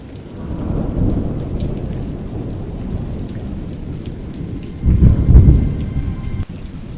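Rain falls steadily in a thunderstorm while thunder rumbles low and heavy, with a strong roll swelling near the end over the constant patter.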